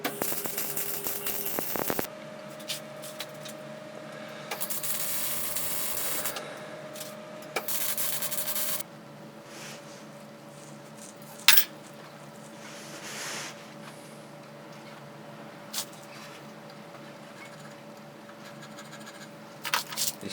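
Hand file working a small scrap-metal cable cleat for a homemade dump truck, giving soft rasping strokes in the opening seconds, then quieter scraping and occasional light knocks over a steady background hum.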